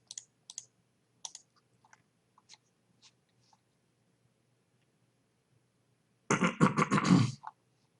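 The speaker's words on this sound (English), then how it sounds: "Could you move your mic away from the keyboard?" Hard typing on a computer keyboard during a livestream, sparse isolated key clicks early on, then a dense, loud burst of rapid keystrokes near the end, picked up close by a camera-mounted mic.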